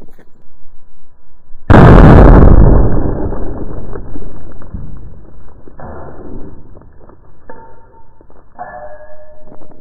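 A single loud handgun shot, 9mm or .45 ACP, cracks sharply and booms with a long decaying echo, followed by faint handling noises and clicks.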